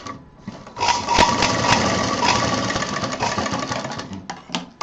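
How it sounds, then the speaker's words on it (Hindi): A sewing machine runs a second line of stitching along a fabric handbag panel. The close, steady whirring stitch run lasts a few seconds, then slows and stops, followed by a couple of small handling knocks. "और यहाँ पर एक मशीन और चलाएंगे, एक चाप की दूरी पर।"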